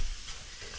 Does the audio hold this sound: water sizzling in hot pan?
yes